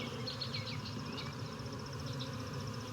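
Honeybees and drones hum in an open hive, a soft continuous buzz with a few faint chirping tones drifting over it, quiet and close.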